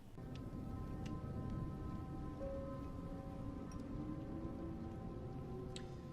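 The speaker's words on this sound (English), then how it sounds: "I'd rather sit here and listen to the rain." Steady rain falls continuously throughout, a dense even patter with occasional louder drips, no voices present.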